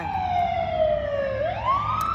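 An ambulance siren wails past on a street near a bus, a loud, sweeping tone that slides down and then rises again, close and clear over low traffic rumble.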